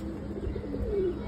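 Pigeons coo softly while being fed, a low, mellow cooing note rising briefly over a steady background murmur in a short stretch.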